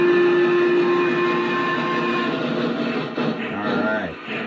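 Lionel Visionline 1211 Class A model train running, a continuous mechanical rumble with a sustained whistle-like tone, fairly loud and close, with shifting noise near the end.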